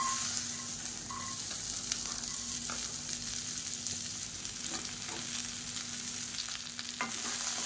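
About 200 grams of chopped okra fries in oil in a pan, a soft, steady, close sizzle with occasional light stirring clicks and a faint low hum throughout.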